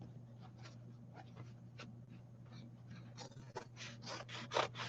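Fabric scissors cutting through duck cloth, heard as a run of close, crisp snipping and rasping strokes that speed up into rapid repeated cuts near the end, over a steady low hum.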